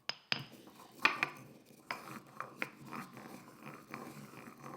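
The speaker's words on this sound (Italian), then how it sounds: "Lo trito finemente." Fresh coriander being finely chopped with a knife on a board, a string of sharp, close taps and knocks at an uneven rhythm, fairly quiet, with no speech.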